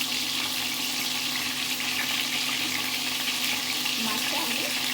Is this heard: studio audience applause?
no